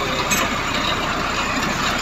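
Diesel tractor engine running steadily while driving toward town, a continuous broadband rumble with a dense low throb, close and loud throughout with no talk.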